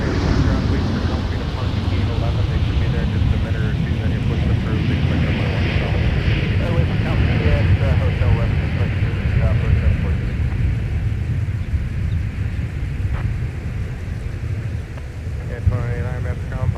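Airliner arriving at Minneapolis–St. Paul airport on a flight from Las Vegas, a loud continuous engine roar and rumble with wind noise, with someone talking over it.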